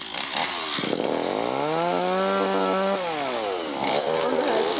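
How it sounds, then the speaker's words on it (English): A chainsaw cuts while property is being cleared in 1997. Its engine whines up in pitch, holds at a high rev, then drops back down, loud and fairly close, with rough chugging before and after. "Oh my god, Bumble with the chainsaw"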